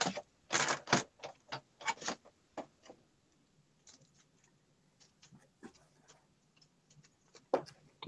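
A paper cutting machine slices through paper in a quiet room: a cluster of sharp clicking, clacking cuts early on, then sparse faint ticks and taps, with one more crisp cut near the end.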